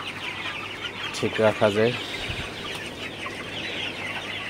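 Chickens on a poultry farm cluck and chatter steadily in the background, with a voice speaking briefly over them partway through.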